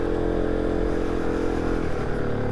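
A motorcycle rides off-road on a forest single track, its engine a steady, close, droning note with faint clatter and no voices.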